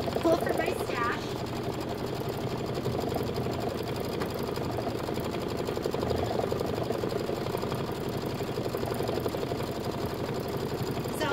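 An embroidery machine stitches a gold glitter thread halo on a Kimberbell nativity bench pillow block, running with a steady, rapid mechanical whir and needle patter that stays close and even throughout without pause.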